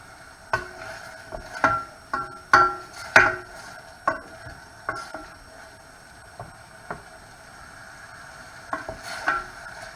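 Bacon frying and stirred in a pan for a tomato-based sauce, with irregular scraping and clinking stir strokes over a steady background crackle, clustered early then sparser, fairly close.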